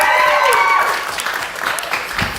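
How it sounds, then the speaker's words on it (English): A comedy-show audience applauds a departing guest at a live stand-up event, a dense, steady wash of clapping that holds loud throughout and thins slightly toward the end, with faint voices mixed in. "Everybody give a round of applause"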